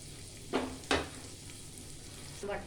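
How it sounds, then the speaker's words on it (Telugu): Onion and green chili fry in oil for a mixed vegetable rice, a steady sizzle running under two sharp scraping stirs early on and another clatter near the end, close and moderately loud, with no talking. "ఉల్లిపాయ, పచ్చిమిర్చి వేసి కాసేపు వేగనివ్వాలి"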